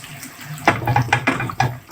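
Boiling water is poured into a pan of frying chicken gizzards and spices, giving several loud sizzling splashes in quick succession, close and clear.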